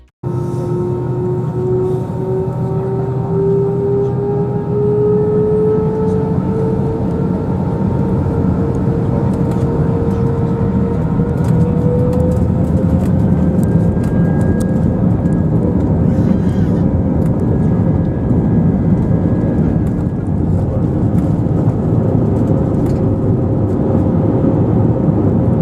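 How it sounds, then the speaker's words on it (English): British Airways Airbus A320-200 takes off from Edinburgh Airport's runway 24, heard from inside the cabin as a loud, continuous engine roar with a rising whine building through the takeoff run. "it is straight to the takeoff footage"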